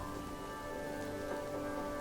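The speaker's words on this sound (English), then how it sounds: "as the heavy rain rolled in" Heavy rain pours steadily on surfaces in the game Demi's Adventure, a dense even hiss with faint drips and no talk, constant from start to end.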